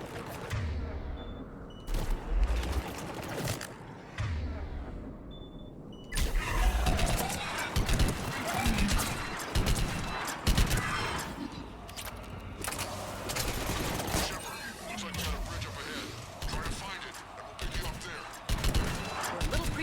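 Mass Effect 3 firefight with repeated bursts of gunfire and impacts, loud and dense, mixed with game dialogue and voices talking over the shooting.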